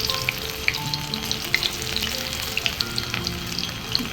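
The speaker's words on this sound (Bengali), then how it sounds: "সয়াবিনগুলো ভাজছি একটু একটু করে দেবেন একসঙ্গে সবগুলো দিয়ে দেব না" Soybean chunks fry in a small amount of oil, giving a continuous close crackling sizzle dotted with sharp pops and spits.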